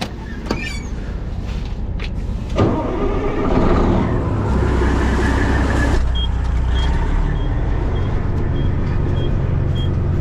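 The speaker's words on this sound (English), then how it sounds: "Okay, I'm going to be running Jeff's truck" A farm truck's engine idles and runs steadily nearby, with a rising roar partway through and faint periodic beeps toward the end, no voices over it.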